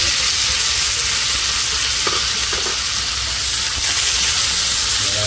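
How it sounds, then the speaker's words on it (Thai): Squid stir-fried in a hot pan with chilies for a Thai basil dish, a loud, steady sizzle and hiss of frying with faint scraping of the stirring utensil throughout. "ก็จะผัดคลุกเคล้าไปเรื่อยๆนะครับใช้เวลาผัดไม่นานนะครับ"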